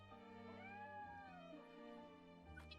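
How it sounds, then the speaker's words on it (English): A cat meows in the video game Triangle Strategy, in Rosellan Village: one drawn-out, rising-then-falling meow, clear and close, with no talk over it. "Is that a kitty?"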